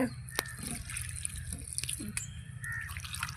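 Water poured onto the soil around a potted tomato plant, with uneven splashing, trickling and dripping close by throughout, and occasional sharp drops.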